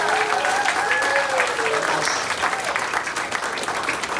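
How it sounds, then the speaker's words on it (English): A comedy show audience applauds the entertainers, a dense steady wash of clapping filling the room, while a person talks over it. "How about a round of applause for all the entertainers you've seen so far?"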